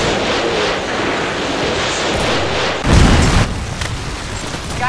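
Missile strike in a Call of Duty game bursts as a loud, low boom partway through, rising over continuous rumbling battlefield noise.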